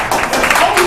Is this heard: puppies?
no